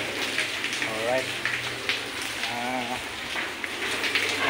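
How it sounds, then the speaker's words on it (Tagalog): Heavy, unrelenting rain during a typhoon in Divisoria, Manila, a dense steady hiss of downpour on surfaces with someone talking over it throughout. "Damag po yung ulan ngayon, walang tigil yung ulan"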